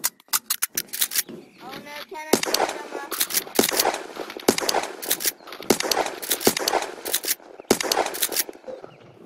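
Loud unsuppressed gunfire in a video game rings out as rapid bursts of sharp cracks in clusters, with someone shouting and talking between and over the shots.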